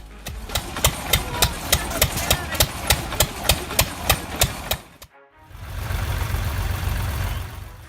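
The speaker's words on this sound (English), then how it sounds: "The blade struggles, the engine hums," The engine of a firewood log processing machine runs with a loud, regular thumping beat, about four per second. It cuts out briefly, then gives way to a steadier low rumble.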